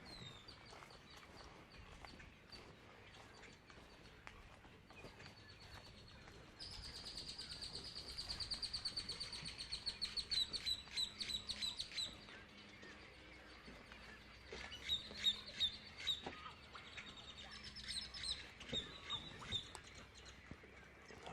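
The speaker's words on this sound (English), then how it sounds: "Can you hear the snowy egrets? Best noises ever." Harsh, croaking snowy egret calls repeat in bursts amid a busy chorus of chirps and squawks at a Galveston, Texas heron rookery, loud and close, with a steady outdoor background.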